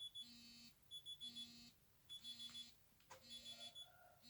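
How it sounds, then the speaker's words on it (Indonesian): Alarm clock ringing again, a faint repeating electronic beep pattern in short bursts of several tones, steady and rhythmic with brief gaps. "Saya belum mematikan alarm, jadi dia bunyi lagi."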